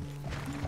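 Horse hooves clip-clopping in the video game Red Dead Redemption 2, a short run of soft, steady steps under a low droning background hum.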